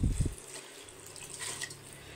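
Measured hot water is poured from a vessel into a cooking pot in a home kitchen, starting with a couple of sharp knocks and then a soft, steady trickling splash close by.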